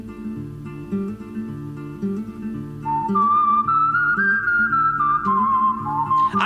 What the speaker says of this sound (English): I love this Western theme a lot because it uses a whistle for the bulk of it